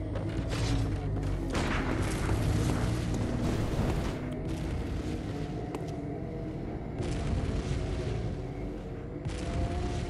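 A Gatling gun in the video game Bloodborne fires steadily, its dense rattling bursts and heavy booms filling the space nearly continuously over rumbling game noise, with brief gaps between volleys.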